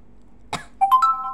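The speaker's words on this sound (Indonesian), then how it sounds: "Maaf teman-teman, batuk." A single short cough from a man at close range, a brief burst standing alone, followed by a few sustained tonal sounds.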